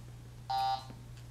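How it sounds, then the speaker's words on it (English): A tracking robot gives a single short electronic beep on receiving a wireless signal, a clear tone of about a quarter second over a steady low mains hum. "So that beep is like an indication that it received the signal"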